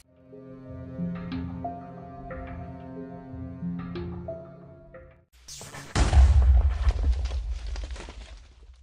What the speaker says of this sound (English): These explosions keep going off and I don't know what they're from.